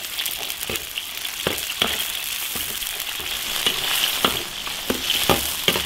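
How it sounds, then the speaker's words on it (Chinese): Spices, scallion, ginger, onion and celery frying in plenty of hot oil in a wok, a steady close sizzle with crackling pops and occasional stirring, no voices. "多烧点油，把香料下进去，葱、姜、洋葱、芹菜，把它的香味炸出来。"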